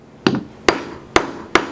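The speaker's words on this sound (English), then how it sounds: "we'll finish it off with a hammer" Four sharp hammer strikes at an even pace drive a pin into a Crosman 2240 air pistol resting on a sturdy table, each blow a crisp, close metallic knock.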